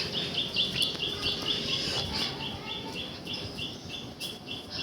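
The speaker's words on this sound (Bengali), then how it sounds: "পাখিরা ডাকছে" Birds chirp repeatedly in short, high tweets over a soft outdoor background, fairly close and steady throughout.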